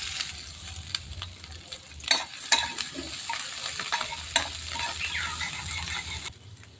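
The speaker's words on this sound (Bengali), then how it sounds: "তেলটা গরম হয়ে গেছে, এর মধ্যে দেব দুটো শুকনো লঙ্কা আর দেব অল্প একটু পাঁচফোড়ন।" Two dried red chillies and a pinch of panch phoron frying in hot oil: a soft continuous sizzle with a few sharp crackles and stirring scrapes, close but fairly quiet, with no talk.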